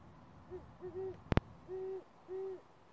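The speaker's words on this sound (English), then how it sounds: "It's an owl." An owl hoots outdoors at night in a series of four or five soft, evenly spaced calls, with a sharp brief click or knock in the middle.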